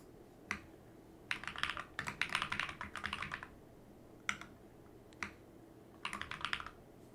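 Fingers type on a computer keyboard in several separate bursts of rapid clicking with short pauses between, close and clear with no talking, while a business name is entered into a Walmart tax exemption form.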